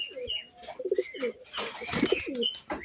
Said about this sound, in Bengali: এই যে সুন্দর যে কবুতরগুলো